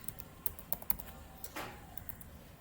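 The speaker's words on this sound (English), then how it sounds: "So I will just type contact." Typing on a computer keyboard, with a quick run of light, close key taps over a steady background hiss.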